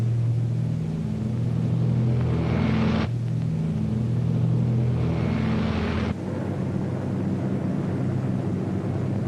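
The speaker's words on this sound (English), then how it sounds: "Hitler's fortress Europe rocked under the terrific pounding of RAF bombers." Heavy, steady drone of RAF bomber engines in a 1940s wartime newsreel, a dense low rumble with layered engine tones that holds throughout, loud and continuous with slight shifts in pitch.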